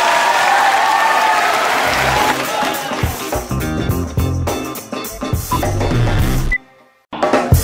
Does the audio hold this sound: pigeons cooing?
no